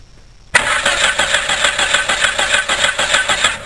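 A car that cranks but won't start, its battery running slightly low, with the starter motor turning the engine over in a steady pulsing rhythm. The sound is loud and close and continues after an abrupt onset.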